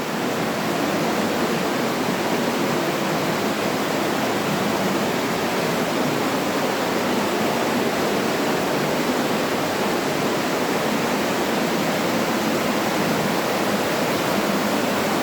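Water roars at the spring of the Agly river, pouring down a cascade inside a cave. The hiss is loud and unbroken from start to finish, with no voices over it.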